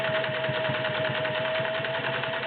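A vintage Singer Slant-O-Matic 403A sewing machine runs steadily with an even, rapid mechanical chatter and a constant motor hum, close and alone.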